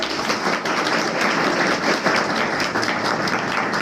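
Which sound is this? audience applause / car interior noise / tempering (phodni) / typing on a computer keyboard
audience applause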